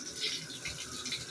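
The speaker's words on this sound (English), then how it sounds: "You still got running water." Water runs from a tap in a dark bathroom during a power outage, a soft, steady splash heard briefly and faintly.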